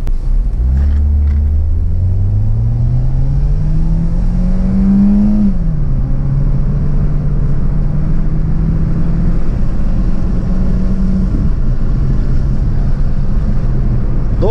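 A Peugeot 408 with an AL4 automatic transmission roars from a standstill, its pitch climbing steadily through one gear, then shifting and pulling hard again with a loud, continuous drone.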